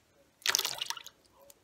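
Water moves in a basin set out for cleaning stairs, a brief close splash and slosh lasting under a second before it fades back to near silence.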